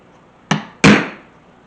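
Two sharp, light taps close by on a leather knife sheath, marking where to drill stitching holes, a short pause between them, the second ringing a little longer than the first.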